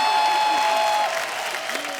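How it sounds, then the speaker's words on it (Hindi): Studio audience applause on The Kapil Sharma Show greeting Riddhima Kapoor Sahni, loud continuous clapping with a music tone underneath, easing slightly after the first second. "जोरदार तालियां रिद्धिमा के लिए"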